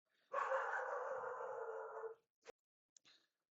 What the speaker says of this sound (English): My dog likes to bark at people when they walk by.